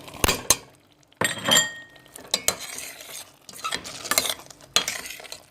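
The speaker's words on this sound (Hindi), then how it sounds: "इसे 2 से 3 मिनट तक अच्छी तरह हम इसको मिक्स करके भून लेंगे" White beans being stirred into fried masala in a pan, with close, irregular scrapes and clinks of a spoon against metal over a faint sizzle, in short bursts with quiet gaps and no speech.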